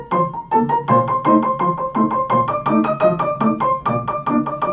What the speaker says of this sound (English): when I played the Hungarian Rhapsody by Liszt